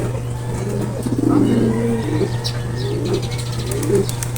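Racing pigeons, wet from rain, coo softly in low, throaty bursts over a steady electrical hum, with faint rustling and chirps in the background.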